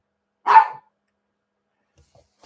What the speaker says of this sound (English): My dog is bugging me.